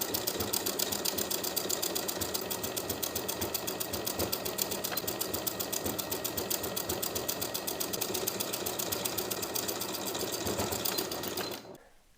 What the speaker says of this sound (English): Now I'm going to top stitch the seam allowance in place from the right side of the garment using a zigzag stitch.